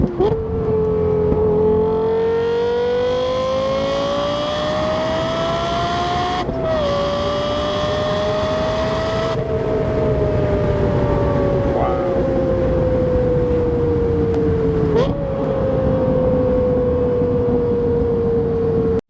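A Lexus LFA engine revs hard and climbs steadily in pitch through the gears, loud and close, with brief dips at each gear change, in damp weather.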